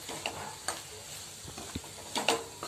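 Potato bhaji being stir-fried in a pan, with soft sizzling under intermittent scrapes and taps of a spoon against the pan, close but quiet and with no talking.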